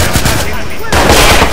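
Automatic gunfire from the video game Watch Dogs: Bad Blood, a dense loud burst that stops briefly and then resumes, with no talk over it.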